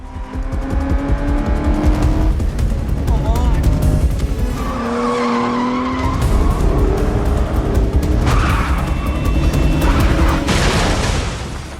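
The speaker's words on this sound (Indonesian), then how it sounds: "Karena merasa terganggu, Drew pun tancap gas." In a film scene, a car tears away with screeching, squealing tyres and a loud, revving engine. Skids and roars come in repeated surges over nearly twelve seconds, with dramatic booming effects.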